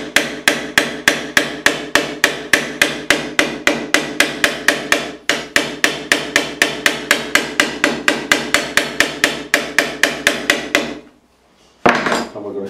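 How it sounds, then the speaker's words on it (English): A fretting hammer drives frets into the neck of a Fender USA Deluxe Active Precision Bass during a re-fret. Close, sharp taps fall in a fast, even run, pause briefly, then continue, ending with a single last tap after a short silence. "all we're going to do is take the fretting hammer,"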